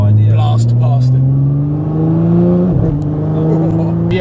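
An Aston Martin DB10 supercar accelerating hard, its loud engine note climbing steadily in pitch as it blasts past, with voices talking over it.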